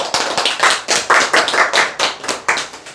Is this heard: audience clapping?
yes